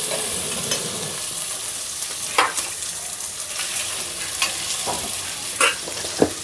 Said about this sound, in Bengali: ভালো করে ভেজে নেব একটু